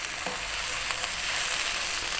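Soy sauce and tomato ketchup sizzle steadily in a pan over high heat while being stirred, a close, continuous frying hiss with faint scraping.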